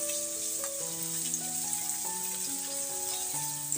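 Kashmiri chilli powder is stirred into a sizzling pan, giving an even, close frying hiss that holds steady for a few seconds, with background music running underneath.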